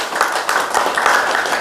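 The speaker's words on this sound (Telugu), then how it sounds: "ఒకసారి గట్టిగా మనకి చప్పట్లు కొట్టుకుందాం." Audience clapping loudly at a spiritual gathering, a dense steady wash of many hands striking without pause from start to finish.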